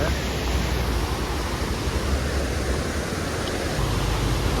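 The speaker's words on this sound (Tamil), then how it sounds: "ஃபால்ஸ் இங்கே ஒன்று இருக்கு." A forest waterfall beside the road from Valparai to Athirapally gives a loud, continuous rushing roar of falling water, a broad unbroken wash of noise with no speech.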